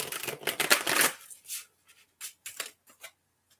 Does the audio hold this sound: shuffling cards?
yes